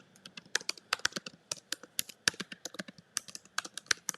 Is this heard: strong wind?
no